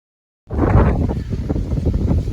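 Gusty wind at Black Rock Cliffs on the Appalachian Trail buffets the microphone, a loud close roar that starts abruptly after a short silence and keeps rumbling unevenly.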